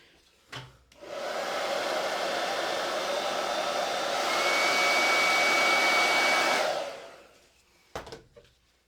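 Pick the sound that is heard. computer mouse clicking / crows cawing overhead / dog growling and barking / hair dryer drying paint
hair dryer drying paint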